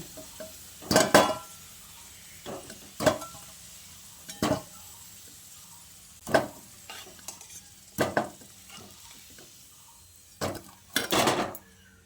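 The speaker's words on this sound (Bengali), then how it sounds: "এবার এই আলুটাকে তেল থেকে ছেঁকে তুলে নিচ্ছি" Fried potatoes, cooked to a reddish golden colour for mutton biryani, are lifted out of hot oil, giving a series of sharp metal clinks and scrapes against the pan over a low steady sizzle, with no talking.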